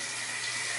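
Shower water pours in a steady, close hiss, an unbroken rush with no pauses.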